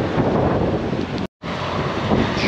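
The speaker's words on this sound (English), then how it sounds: "It is very, very windy outside here on this Thursday night." Strong wind buffets the microphone outdoors at night at a speedway, a loud continuous roar broken by one brief drop to silence, with no voices.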